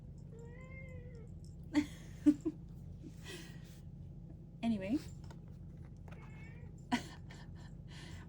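Quiet indoor cat meows, several short calls scattered through the stretch, faint and close, with someone speaking briefly between them.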